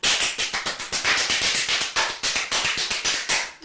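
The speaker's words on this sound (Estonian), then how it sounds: "Peksame hoopis kätega kõhulihaseid." Fists pound rapidly on tensed abdominal muscles, making a dense, even run of loud, close, sharp slapping thuds with no pause.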